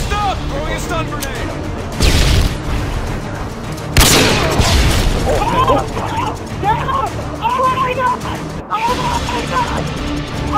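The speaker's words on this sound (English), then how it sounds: "Throwing a stun grenade!" A stun grenade is thrown and detonates during a video game mission, with a sharp loud burst around four seconds preceded by another impact, under overlapping excited voices of several players talking throughout.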